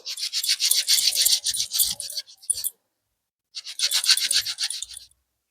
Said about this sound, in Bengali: লোহার স্ক্রাবার গুলো হলে ভালো হয় এইভাবে ঘষে নেব